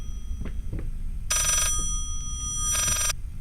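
A telephone rings backwards inside the horror game Layers of Fear, two loud bursts of rapid bell trills with a gap between them, set over a low rumbling ambience and a few soft knocks.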